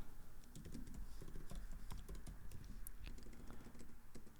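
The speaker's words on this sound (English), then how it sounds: "You ever pussyfoot around your keyboard and just hit the wrong keys for no reason?" Fingers tap a computer keyboard in quick, uneven bursts, close and clear, with a faint background hum.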